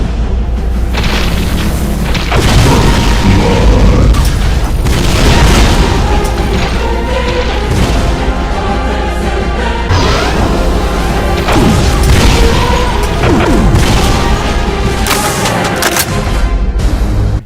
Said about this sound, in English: It can fire Demon Tech BFG shots that have a homing ability.